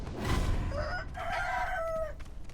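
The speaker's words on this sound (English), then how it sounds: "Let's also take care of these chickens before they become a problem." Chickens in the video game Sekiro: Shadows Die Twice cluck and give drawn-out crowing calls, close and fairly loud, over a noisy game background with no speech.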